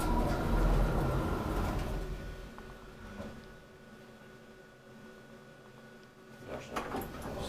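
Otis traction elevator in a Tampere apartment building, doors sliding and the lift car running with a low steady rumble that fades, faint clunks and a voice near the end.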